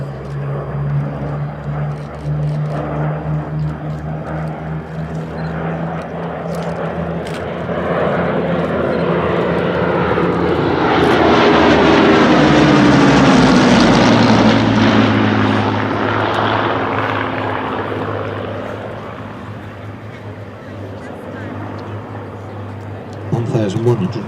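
A Hawker Hurricane with a Merlin engine flies a display pass, its propeller drone swelling from distant to a loud close roar around the middle and then fading away, with a voice speaking over it.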